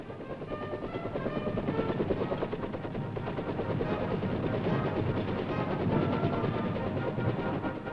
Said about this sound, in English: The helicopter puts down in a clearing near the combat unit